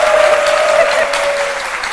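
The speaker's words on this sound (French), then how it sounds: "je vous demande d'applaudir" A studio audience on a French talk show applauds a guest, a brief burst of steady clapping heard loud and close, with a sustained tone running beneath it and no voices.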